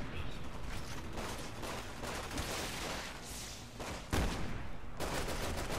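Gunfire in the video game Resident Evil 6, a quiet, continuous clatter of overlapping shots and bursts with a heavier crack near the end, heard at low level throughout.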